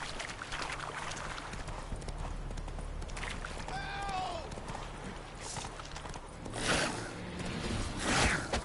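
Hooves of Roach, Geralt's horse in The Witcher 3, clip-clop in a steady galloping rhythm under game ambience, with a brief whinny-like tone midway and louder rushing near the end.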